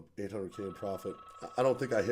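A telephone rings with a steady electronic bell tone beneath close, continuous speech, holding as a thin sustained ring through most of the moment.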